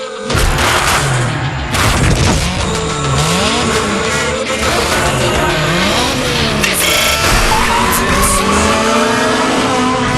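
Cars in the Need for Speed Shift video game roar through a drag race with engines revving up and shifting, tires squealing and booming bursts, dense and loud for the whole stretch.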